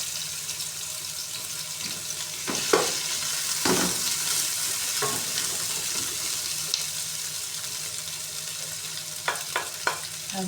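Ghee fries in a pan while meat cooks, making a low, steady sizzle broken by a few clinks and scrapes of a utensil, close by and with no talk.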